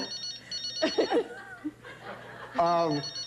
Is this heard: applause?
no